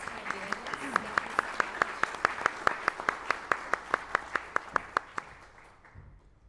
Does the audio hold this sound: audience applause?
yes